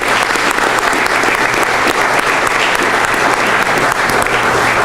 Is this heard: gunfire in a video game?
no